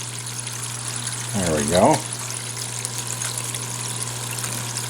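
Water rushes steadily across a Jimbo's gold recovery water table loaded with material, making a constant broadband wash with a voice speaking briefly over it.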